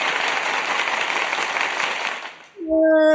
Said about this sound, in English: let's start today with a round of applause